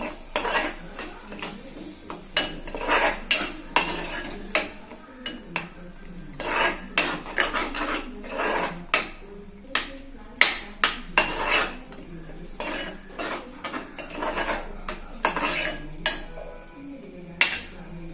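A spoon stirs ginger curry (inji curry) in a pan, repeated metallic scrapes and clinks against the pan in a loose, steady rhythm, close and fairly loud.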